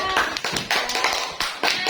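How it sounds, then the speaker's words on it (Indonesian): A group claps for a student team during a school coaching session, in several short rhythmic bursts, close and fairly loud, with brief pauses between them. "boleh kasih tepuk tangan kelompok 3"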